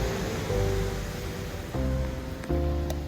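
Ocean waves on Playa Arrocito beach in Huatulco, Oaxaca, Mexico, washing ashore in a steady broad surf wash, with a few swells rising and falling close by.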